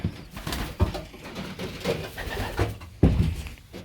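Pigeons coo repeatedly in a noisy, overlapping chorus close by, with bursts of louder throaty calls rising from a steady background of birds.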